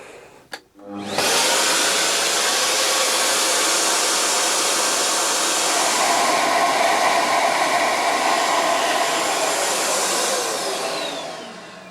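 A flow bench blows air through the cylinder 3 port of an engine head with Siamese ports. It starts after a brief click and spin-up, then holds a loud, steady rushing roar for about ten seconds before easing off.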